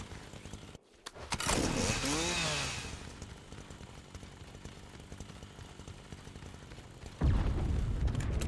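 A chainsaw revs in the video game Resident Evil 4 Remake. A sharp start is followed by a rising, wavering whine that settles into a steady drone, then a loud burst near the end.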